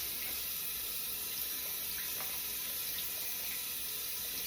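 Water from a bathroom sink tap runs in a steady, continuous stream while makeup brushes are rinsed beneath it, a close, even splashing hiss with faint flicks of water.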